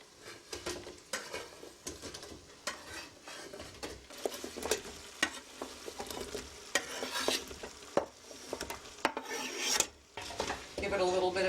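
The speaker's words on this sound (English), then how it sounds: "Give it a little bit of a stir." Vegetables with onions and garlic being stirred in a soup pot, a close, rough scraping and rasping that comes in uneven strokes over a faint sizzle, with no talking.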